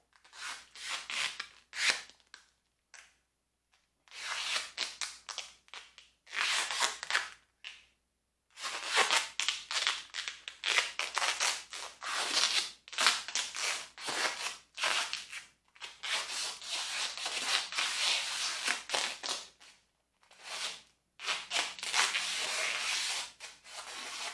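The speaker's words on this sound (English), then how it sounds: "you want to start wrapping this with tape as soon as you can, so it doesn't unravel" Tape pulled off the roll and wrapped around a coil of tie wire, a series of loud, close ripping and rubbing bursts separated by short silent pauses.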